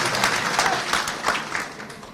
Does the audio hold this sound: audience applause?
yes